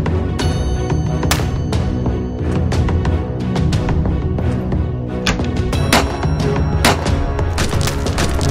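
Loud gunfire in a shootout in the Hindi film Sai Chamatkar, rapid irregular shots and booming impacts crowding one another in a dense, continuous barrage.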